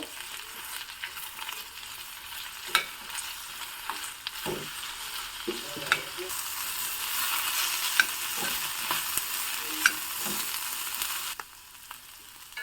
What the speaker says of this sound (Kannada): ಒಂದು ದೊಡ್ಡ ಸೈಜಿನ ಕ್ಯಾಪ್ಸಿಕಮ್ನ ಹೆಚ್ಕೊಂಡಿರೋದನ್ನು ಹಾಕಿದ್ದೀನಿ ಇದನ್ನು ಚೆನ್ನಾಗಿ ಹುರ್ಕೋಬೇಕು